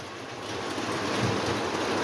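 Lionel toy steam locomotives pulling freight cars with flatbeds around a layout give a steady, close rolling rumble with soft clickety-clack rising slightly in loudness.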